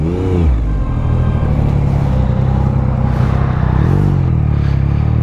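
A motorcycle engine ridden through busy city traffic, a loud steady drone with slight pitch swells as the rider accelerates, continuous and close throughout, with no talk.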